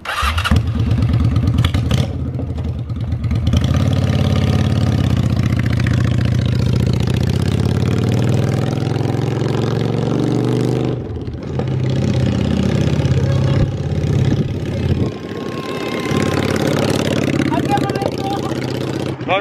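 A hardtail Honda Shadow VT600 bobber motorcycle with a two-up seat mod runs loud and close, its engine a steady low rumble that rises and falls for the whole stretch, with a brief dip near the middle.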